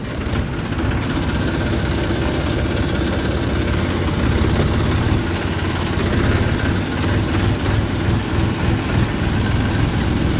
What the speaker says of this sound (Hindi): करीब आधे घंटे पौने घंटे बाद चला है जी ट्रैक्टर मैसी।